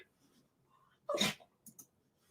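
A single quiet sneeze, short and sharp, followed by a couple of soft sniffs in an otherwise quiet room.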